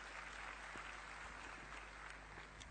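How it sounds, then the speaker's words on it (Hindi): An audience at a Safe Shop business talk claps steadily, a dense wash of applause that stays soft and fairly distant throughout. "आपने तो ताली बजा दिया"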